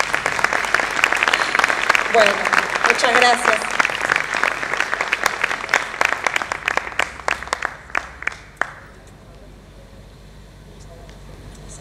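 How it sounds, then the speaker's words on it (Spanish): Audience applause at an evening tribute event in Havana, steady dense clapping that thins into scattered claps and stops around the ninth second, leaving quiet room tone; someone speaks briefly over it. "Un aplauso."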